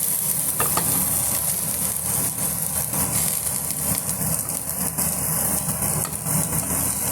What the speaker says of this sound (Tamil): இப்போ நான் இதுவும் ஃப்ரை பண்ணிக்கிறேன்.